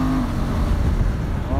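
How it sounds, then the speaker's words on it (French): A Honda Transalp 750 motorcycle with a quickshifter accelerates on a motorway to overtake a truck, a loud, close engine drone mixed with heavy wind rush, rising in pitch near the end. "on va doubler le camion"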